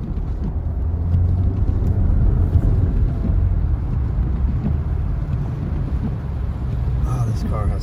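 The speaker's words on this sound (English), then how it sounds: "Oh, this car has so much power." A car drives along Big Bear Boulevard through a heavy blizzard on a snowy road, its engine and tyre rumble steady and close throughout, with wind buffeting the microphone and a voice speaking over it.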